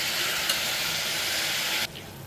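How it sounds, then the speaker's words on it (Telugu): Mutton frying in a pan with salt and a pinch of turmeric, giving a steady, close sizzling hiss that holds evenly and then cuts off abruptly near the end. "ఇది బాగా ఒక 5 మినిట్స్ వేగాలి."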